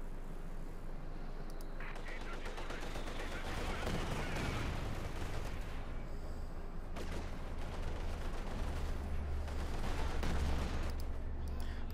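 Battle sounds in the Company of Heroes 2 strategy game: mortar and artillery fire with dense rumbling booms and crackling gunfire rolling continuously over a low, sustained drone.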